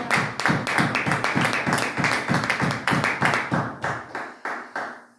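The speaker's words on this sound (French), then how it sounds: "On acclame très fort le Seigneur." Church congregation at a Sunday worship service clapping together to acclaim the Lord, a steady rhythmic clapping of many hands that slows and thins out toward the end.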